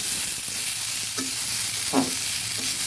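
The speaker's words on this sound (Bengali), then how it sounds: "এবার ভালোভাবে নেড়ে ভেজে নেব।" Chopped onion frying in hot oil for a bitter gourd and potato dish, a steady sizzle broken by three scraping strokes of a spatula stirring the pan, close and clear with no talk.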